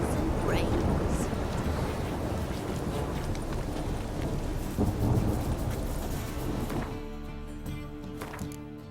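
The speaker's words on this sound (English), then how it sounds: "It just rains and rains." Heavy rain pours in a dense, steady hiss with rumbles of thunder rolling through it, and the downpour eases near the end as a faint electronic hum shows up.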